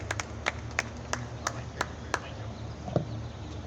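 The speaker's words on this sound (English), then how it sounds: "One more round of applause for Commissioner Van Rensselaer." Outdoor Freedom Day crowd applauding at a Paterson, New Jersey celebration, a thin scatter of hand claps with a few distinct sharp ones standing out in a regular rhythm over a low background hum.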